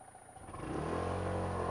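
A Honda scooter engine restarts automatically through its stop-start system as the throttle is twisted, rising from quiet into a steady, close idling rumble with a buzzing mid-range growl.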